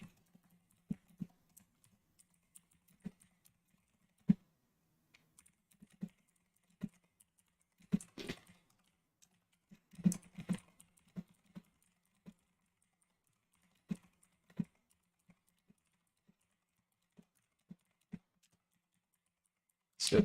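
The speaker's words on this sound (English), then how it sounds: "So let's get this typed up." Fast, irregular keystrokes on a computer keyboard, close and fairly quiet, arrive in uneven bursts with brief pauses between runs of typing.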